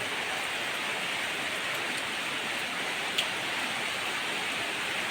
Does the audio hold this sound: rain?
yes